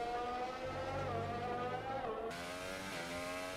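A racing car on the Bahrain circuit brakes hard and corners, its engine note dropping through downshifts in a steady onboard drone that turns sharper and brighter partway through.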